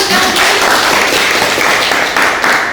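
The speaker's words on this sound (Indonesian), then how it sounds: "Beri aplaus dulu" A classroom of students gives a steady round of clapping applause during a teaching session, loud and close, sustained evenly for a few seconds without talking.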